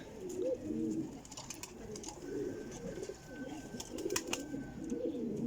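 A young flying pigeon, about one and a half years old, coos softly and repeatedly nearby in a low, rolling rhythm, with faint chirps and clicks around it.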